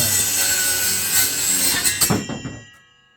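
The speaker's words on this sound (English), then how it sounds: "Cut through that 1/2-inch plywood just super smooth." Budget cordless circular saw cutting through 1/2-inch plywood, a close buzzing blade cut with woody rasp that finishes after about two and a half seconds and cuts off into silence.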